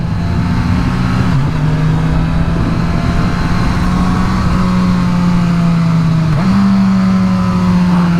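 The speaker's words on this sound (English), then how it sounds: "That was a quick little spin on the 2020 Suzuki Katana." A 2020 Suzuki Katana motorcycle is ridden at speed, its engine droning loud and close with steady pitch, dipping briefly during two gear shifts before pulling back up.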